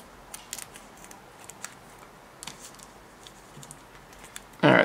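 Scissors snip through the top of a Pokemon trading card pack in a few faint, brief crisp cuts against a quiet room, ending in a sudden louder rustling burst of foil wrapper.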